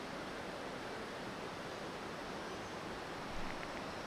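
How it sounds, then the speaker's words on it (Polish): Ocean waves wash onto a sandy beach in French Guiana as a steady, soft, hissing surf wash with no distinct breaks. There is no talking. "Jakaś plaża tam jest z piaskiem."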